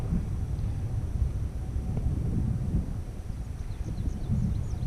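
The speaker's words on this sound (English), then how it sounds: "the wind's coming directly at us now" Wind buffets the microphone at an RC plane flying field, a continuous low rumbling roar, steady and close, with no voices.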